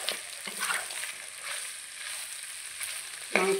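Water tipped into a pan of duck meat frying in its own rendered fat, giving a steady broadband sizzle with a brief splashy surge near the end; close and moderately loud, no talking.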